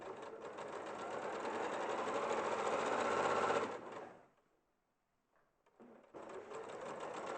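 A sewing machine stitches chicks-and-eggs fabric in a steady, fast whirring run, close and continuous, stopping for a near-silent pause with a faint clunk before starting up again.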